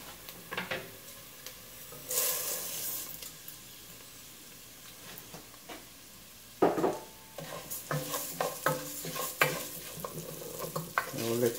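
Rice toasting in a frying pan with golden-browned garlic for Mexican yellow rice, a steady close sizzle broken by scraping stirs and spoon clatter against the pan, with no talking.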